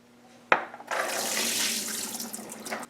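Cool tap water runs steadily into a bowl of fresh pomegranate seeds, beginning with a sharp clack and then a continuous close splashing rush that keeps going to the end.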